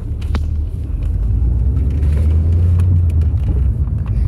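An Audi TT accelerates with a heavy, steady low engine rumble that swells and holds loud throughout, close up, with a few faint clicks above it and no speech.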